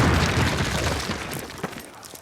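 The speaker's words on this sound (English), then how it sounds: "Place your explosives on the cinder block wall." Explosive charges blow apart a cinder block wall in the Call of Duty PC game, a loud booming blast that rumbles from the start and slowly fades, with faint debris crackles near the end.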